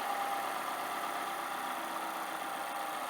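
A car engine idles steadily just after a throttle body cleaning, a continuous even hum at moderate level with no revving and no voices.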